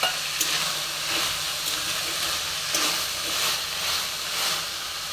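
Carrots tipped into a hot pan of vegetables cooking for a vegetable biryani, giving a steady close sizzle and hiss with faint stirring scrapes and no talk.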